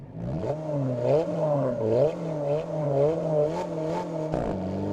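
Alpine A110 engine in a racing video game, a steady revving drone that rises and dips with gear changes, loud and continuous, with a sharp drop near the end as a shift cuts in.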